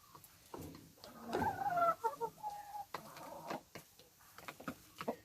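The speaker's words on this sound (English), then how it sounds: "watching the chickens eat black soldier flies all afternoon" Chickens eating black soldier flies cluck and peck nearby in a busy, irregular stream of soft clucks and brief squawks, with small tapping sounds mixed in.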